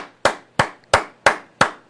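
Five sharp hand claps in a steady, evenly spaced rhythm, close and loud, each snapping on and quickly fading, with no talk in between.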